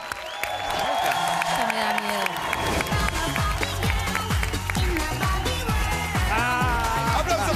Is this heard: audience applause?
yes